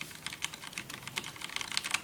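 Steady typing on a Rosewill RK-9000BL mechanical keyboard with Cherry MX Black switches: a dense, even run of fairly soft clacks, close up and uninterrupted, with no voices.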